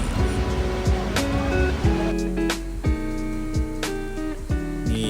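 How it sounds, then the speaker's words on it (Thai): Rushing water from a waterfall right beside a cafe on Koh Chang, Thailand, a steady broadband roar continuing throughout with a few sharper splashes and knocks over it. "แล้วนี่คือน้ำตกนะครับที่อยู่ติดกันเลยนะครับ"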